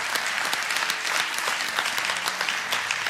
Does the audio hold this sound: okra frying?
no